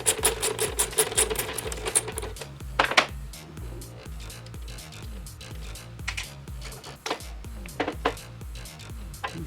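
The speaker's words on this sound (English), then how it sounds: "Using a 1/2-inch socket wrench, we're going to remove" Rapid ratcheting clicks from a 1/2-inch socket wrench removing a wheel on a Grizzly G0869/G0870 table saw, close by, in repeated bursts with scattered metallic clanks.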